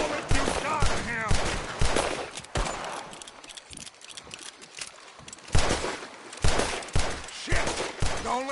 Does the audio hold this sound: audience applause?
no